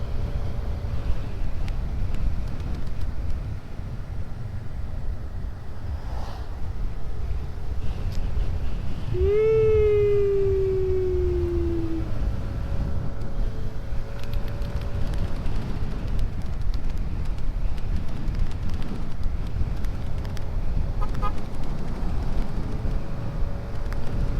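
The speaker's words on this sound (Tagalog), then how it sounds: "Lakas ng hangin." Steady, heavy wind rush buffets the microphone throughout while riding a Yamaha Nmax V2 scooter, with a low engine drone underneath and a brief rising tonal whine near the middle.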